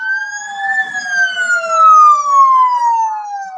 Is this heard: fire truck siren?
yes